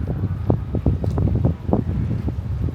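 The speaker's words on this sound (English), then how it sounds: "the wind." Outdoor wind buffeting a microphone beside a Japanese apartment, a steady low rumble with repeated gusty thumps throughout, close and fairly loud, with no speech.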